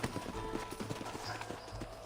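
Hooves clip-clop in a steady walking rhythm in Red Dead Redemption, several horses moving together at close range over a low background ambience.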